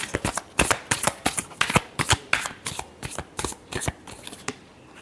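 A deck of tarot cards is riffled and shuffled by hand, a rapid series of crisp papery flutters and snaps in a steady rhythm, close and loud with no voices.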